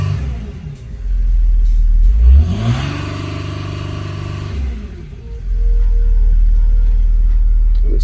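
A Mercedes CLK 320 3.0 V6 diesel (OM642) in limp mode with a fault code revs up from idle, climbs to a capped rev limit, holds there and drops back to a steady idle, loud and close.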